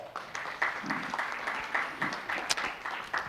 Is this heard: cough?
no